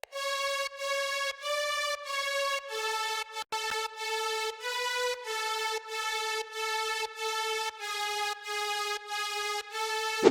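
A bright synth lead melody built from several stacked tones plays on its own, stepping through sustained notes with short gaps in a steady rhythm.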